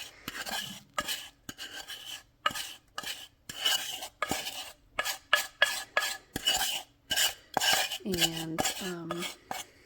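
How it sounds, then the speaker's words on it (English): A utensil scrapes caramel sauce out of a pan for a pear upside-down spice cake, a run of sharp metallic scrapes and clinks in irregular bursts, close and fairly loud, with a brief spoken word. "I think we can get a little bit more out of here. And smear that into our pan."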